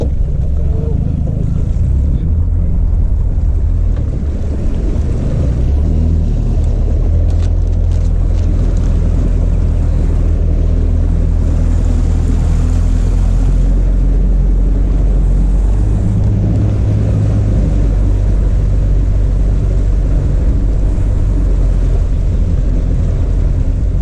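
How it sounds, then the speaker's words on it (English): A bass boat's outboard engine runs on the water, a loud, steady low rumble mixed with wind buffeting the microphone and water wash, with no clear speech over it. "Engine, including my own."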